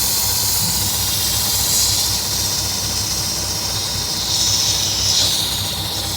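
Steady loud air hiss from a leaking leveling valve on the air suspension of a 2020 Peterbilt 579 truck, close and continuous for several seconds with a low rumble beneath and no speech.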